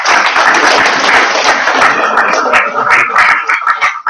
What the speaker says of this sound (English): So I think the GMs and board members deserve a round of applause as well.